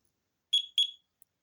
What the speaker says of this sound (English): 2 beeps. So now the alarm is going to go into armed mode.